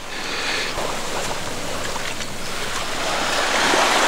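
Surf washes onto a beach on Koh Kood island in Thailand, a steady broad rush of breaking waves with light wind buffeting, continuous and fairly near, no voices.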